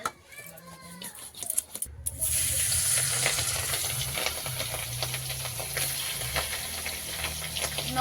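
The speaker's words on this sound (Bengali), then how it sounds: "কড়াই গরম হয়ে গেছে কড়াইতে একটু তেল দিয়ে দেবো" Hot oil in a heated kadai bursts into a loud, dense sizzle about two seconds in and holds a steady roar, fish frying, close up with no voices.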